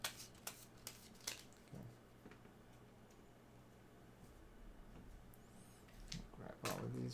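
A deck of cards is shuffled for a tabletop game session, with a string of short crisp riffling bursts and taps scattered across a quiet room, some louder snaps near the end.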